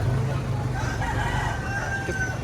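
A straight comb pumpkin hatch rooster crows at a poultry auction market in Lipa, a continuous crowing call over loud crowd and market noise.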